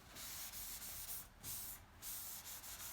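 Paper towel wiping furniture wax back across a painted wood surface, close rhythmic rubbing swishes in steady strokes with brief pauses, no talk.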